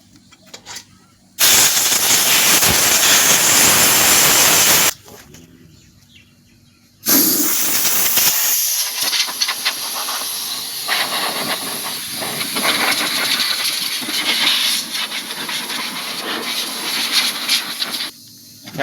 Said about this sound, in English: While it's out is a good time to blow it all out with compressed air.